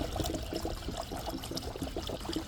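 Coolant pours steadily into the engine of a 2012 Kia Soul 2.0L, a continuous close trickle and gurgle of liquid running without a break.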